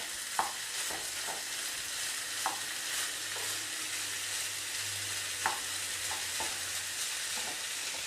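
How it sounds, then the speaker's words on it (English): Rice being stirred in a sizzling pan for kedgeree, a steady soft frying hiss with a few faint scraping and tapping spoon knocks spread across the span, close and quiet with no speech. "Give that a bit of a stir."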